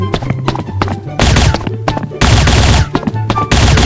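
Rapid bursts of gunfire from the shooter game Bullet Angel, loud and close, coming in repeated volleys over a steady game soundtrack.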